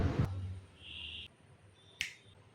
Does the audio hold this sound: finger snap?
yes